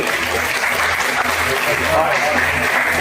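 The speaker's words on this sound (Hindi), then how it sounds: "80 साल ताली बजा दिए" Loud, steady audience applause at a birthday get-together for members, honoring an 86-year-old celebrant, dense clapping filling the room with voices mixed in.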